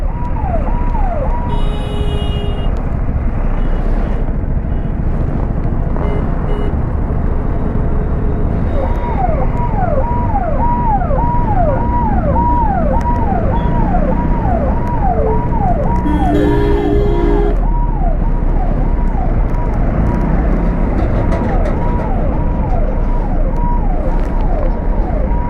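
Dense road traffic on a night ride through Rajasthan, a continuous loud rumble of engines with a repeated warbling siren or horn tone running through much of it and occasional sharp honks.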